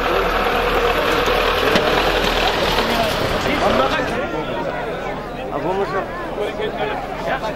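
A tractor engine running at an outdoor horseback game gathering, a steady low rumbling drone under loud crowd chatter and shouting.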